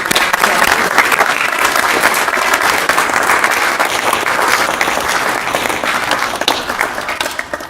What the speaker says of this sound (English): I just would like us to give her a round of applause